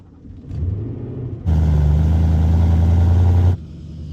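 A salvage-rebuilt BMW E92 M3 engine idles with a low rumble, then a louder, steady engine drone holds for a couple of seconds before dropping back.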